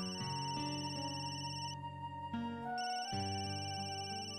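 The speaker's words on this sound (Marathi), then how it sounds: "फोन वाजतो का तुझा?" A mobile phone ringtone rings in a home, a steady loud melodic tone playing continuously and alone, with brief pauses between phrases.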